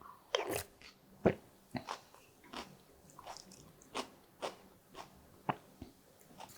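Close, crisp crunching bites and chewing of a cucumber and apple side dish, a steady run of a dozen or so quiet, sharp crunches with no talk.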